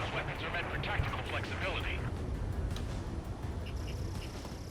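Rapid cannon fire from an F-22 Raptor in the video game Ace Combat 7, a dense rattling burst for about two seconds over engine and game noise, then fading into softer in-game effects.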